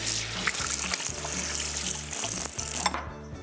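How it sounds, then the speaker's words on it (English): Hands are washed under a running kitchen tap, a steady hiss of water over soft background music that cuts off just before the end. "I'm gonna wash my hands"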